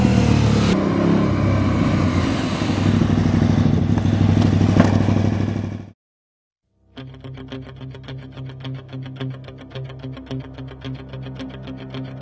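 A KTM 990 SMR supermoto motorcycle runs loud and close, its engine droning and revving for several seconds, then cutting out briefly before a rougher, pulsing engine note returns.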